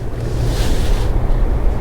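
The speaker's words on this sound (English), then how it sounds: "this is the River Shannon, the longest river in Ireland" The River Shannon flows through Athlone in the centre of Ireland, heard as a steady broadband rush of water mixed with wind buffeting the microphone, loud and unbroken, with no talking.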